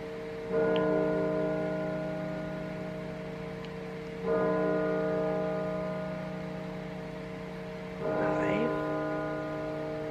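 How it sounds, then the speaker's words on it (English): A large church bell tolls three times at slow, even intervals on a Sunday in Oxford, England, each strike ringing out and fading before the next, heard from a distance. "There go the bells."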